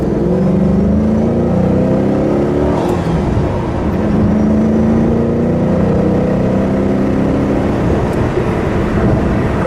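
A 2006 Ford GT's engine roars loud and close as the car accelerates on the road, rising through the revs in sweeping pulls with a steady rumbling drone and no talk.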